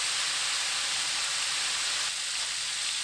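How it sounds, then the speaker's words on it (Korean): Pork belly searing in a frying pan gives a steady, loud broadband hiss and sizzle that holds evenly throughout, with no voices. "팬에 삼겹살을 노릇하게 구워주세요."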